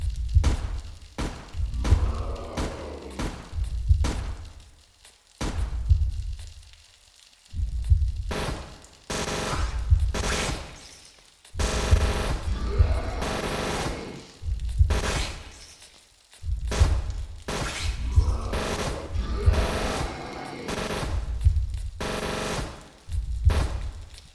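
Rapid gunfire in a shooter video game as enemies are shot, repeated loud bursts and single heavy shots with short gaps between them, close and forceful.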